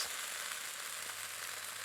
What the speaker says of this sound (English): so that's frying away